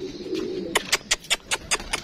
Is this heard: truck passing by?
no